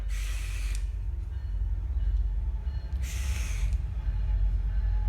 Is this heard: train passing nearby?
yes